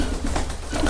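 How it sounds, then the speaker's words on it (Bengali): Pigeons cooing on a pigeon farm that keeps both foreign and local breeds, a close, continuous low burbling coo with repeated soft pulses running through the whole moment and no talk. "দেখতে পাচ্ছেন আমার কবুতর।"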